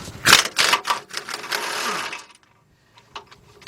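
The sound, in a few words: 1/2-inch drive impact gun removing a bolt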